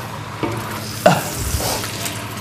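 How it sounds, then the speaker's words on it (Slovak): Pork liver frying in a pan, stirred lightly with a steady sizzle underneath and a few distinct scraping knocks of the utensil, close up with no talking. "Pečeň sa len musí tak zľahka premiešať."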